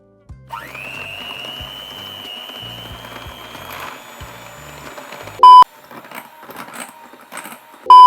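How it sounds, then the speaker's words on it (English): Hand mixer creaming butter and sugar, a steady high electric whine with a low rattling motor underneath, then two loud electronic beeps near the end. "I'm just using a hand mixer"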